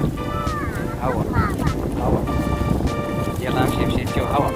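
Outdoor wind buffets the microphone with a steady broadband rumble, heard under children and adults talking and calling to each other.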